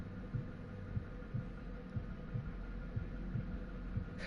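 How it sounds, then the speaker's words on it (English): A heartbeat effect from the video game Far Cry 5 throbs in a steady, even rhythm of soft low thumps, about one beat per half second, over a constant background hum. "We get to hear this heart beating sound."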